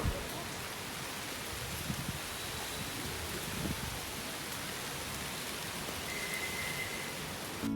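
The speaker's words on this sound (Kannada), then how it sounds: "ಈವ್ನಿಂಗ್ ಮಳೆ ಬರ್ತಾಯಿತ್ತು ನೋಡ್ಬೋದು" Evening rain falls steadily as an even, close hiss of drops on surfaces, with no voices and only a few faint knocks in the background.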